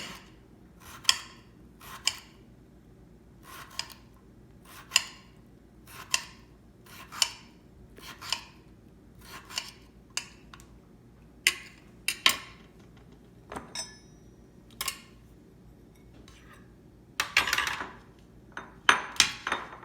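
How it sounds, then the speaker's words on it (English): A knife chops gourds into half spirals on a cutting board, giving sharp, evenly spaced clicks about once a second. A quicker cluster of cuts comes near the end. "I'm now going to chop these into half spirals."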